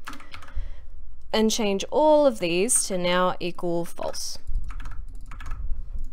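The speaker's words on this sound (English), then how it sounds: "You can probably hear my clicky keyboard in the background." Someone talks throughout while a clicky computer keyboard taps faintly beneath his voice, with a few clearer keystrokes once he stops.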